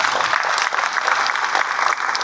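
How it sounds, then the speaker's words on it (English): Sustained audience applause at a World Cancer Day event, honouring the Pro Chancellor of University of Cyberjaya: a thick, steady roar of many hands clapping, with only faint crowd murmur. "Big round of applause for you"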